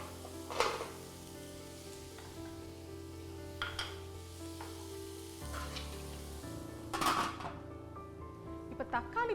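Sliced tomatoes cooking in a pan for Kongu-style chicken biryani, with soft sizzling and a few clanks and scrapes as they are mixed, fairly quiet and close with a low background hum.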